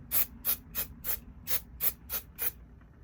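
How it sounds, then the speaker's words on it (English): Eight short, crisp bursts of spray setting powder in a quick, slightly uneven rhythm, close and fairly quiet, each a sharp hiss. "It's like supposed to be a spray setting powder."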